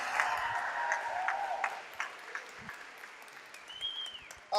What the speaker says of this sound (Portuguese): Vamos dar uma salva de palmas ao nosso Deus.